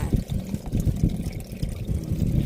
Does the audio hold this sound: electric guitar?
no